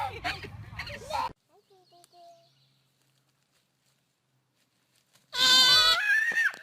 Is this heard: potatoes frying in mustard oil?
no